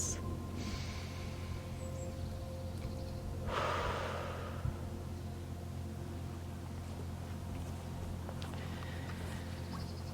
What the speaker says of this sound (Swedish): ta ett djupt andetag och bara andas